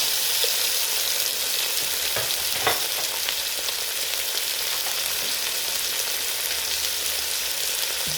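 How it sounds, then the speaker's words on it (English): Shredded carrots, garlic, onions and tomatoes fry in a pan, giving a steady bright sizzle throughout with a few soft stirring clicks. "To this I'm also adding the carrots that I shredded, so that they can have a cooking time together with the garlic and onions and tomatoes."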